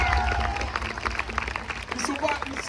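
Brief, loud burst of audience applause at a French freestyle rope-jumping final, with dense clapping and crowd voices mixed throughout.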